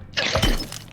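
An object shatters in the video game R.E.P.O, a single brief breaking crash with a bright glassy burst that quickly fades.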